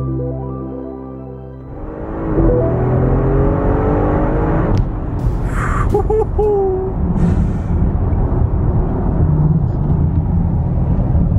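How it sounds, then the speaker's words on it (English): Audi RS6 being driven, a rising engine note as it accelerates followed by a steady loud road and engine drone, with a brief whistling tone in the middle. "that was the drive in the new RS6"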